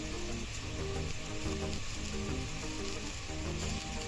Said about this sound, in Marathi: आता आपण लसूण अद्रक पेस्ट टाकून घेणार आहोत